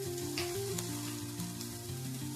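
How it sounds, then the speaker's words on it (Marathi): Masala sweet corn sizzling and frying steadily in a pan with Maggi masala, a continuous close hiss with faint stirring, no voices. "सर्व एकजीव करून 2 ते 3 मिनिटे परतून घेऊया"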